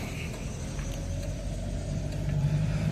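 A 1987 Dodge Aries Wagon rumbles along while driving, a steady low engine drone with road noise inside the cabin, slightly swelling toward the end, with no talking.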